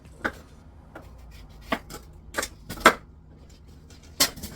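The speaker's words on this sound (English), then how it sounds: "just kind of dice it into chunks, chop it up, dice it into chunks" A knife chops food into chunks: sparse, irregular, fairly quiet thuds, about eight over a few seconds, with no talking.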